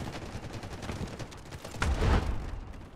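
Gunfire in the mobile shooter Delta Force Mobile during sniper play, a dense run of sharp shots capped by a louder, booming report near the end.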